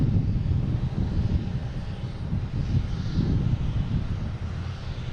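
A Virgin Atlantic airliner arriving from London Heathrow at Boston Logan gives off a loud, close, continuous jet-engine roar that rises and falls slightly as it passes.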